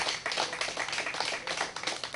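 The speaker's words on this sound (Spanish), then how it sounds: "Dale un aplauso al Eterno." Congregation clapping during a worship service, a close, busy burst of many hands clapping with a slightly pulsing rhythm, no speech over it.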